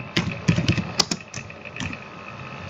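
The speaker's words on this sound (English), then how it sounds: "Now we have to type our name" Someone types on a computer keyboard while setting up a WordPress site, producing quick, close, irregular key taps at a fairly quiet level.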